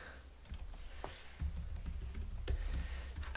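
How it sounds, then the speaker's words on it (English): Quick, light keystrokes on a computer keyboard while a password is entered, irregular clicks and taps clustered close together, recorded up close in a quiet room. "Master password, you type in something that you're going to remember."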